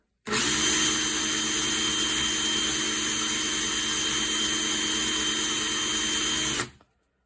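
Power drill serving as an improvised lathe to spin a small gun part for cleaning, a steady high whine that starts abruptly, holds at constant speed for about six seconds, then stops, close and alone.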